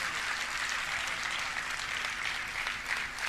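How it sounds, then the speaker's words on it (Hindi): Audience applause at a poetry gathering during a religious festival held on an open ground, sustained dense clapping from a large crowd, even and continuous with a faint steady hum underneath. "पूरा सदन जोरदार तालियां उठाकर इस कार्रवाई को बाहर करे।"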